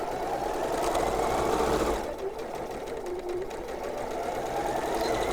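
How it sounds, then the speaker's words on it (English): A 680 model sewing machine stitches quilt seams with a steady, loud mechanical whir, pausing briefly and then running on again at a slightly different pace. "I'm using the 680 sewing machine that is actually got the special deal on it today."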